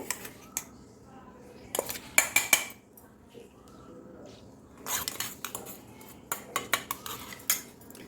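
A spoon stirs crushed fruit and ground cashews into milk in a metal pot for mango ice cream, giving close clinks and scrapes in several quick bursts with quieter gaps.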